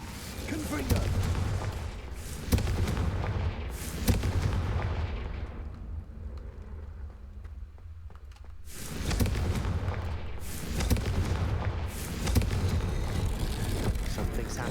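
Confringo blasting-curse explosions from the Hogwarts Legacy video game, heavy booming bursts repeating through the stretch with a quieter gap in the middle, loud and close under game sound.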